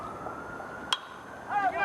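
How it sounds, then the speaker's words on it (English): A siren wails faintly in the distance near a high school baseball game, its rising and falling tone emerging at the end beneath background crowd noise. "There's an additional siren."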